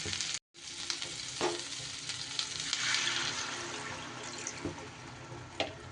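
Water is poured into a hot pan of cooking taro, a soft rushing, sizzling hiss that runs steadily after a brief gap, with a few faint clinks.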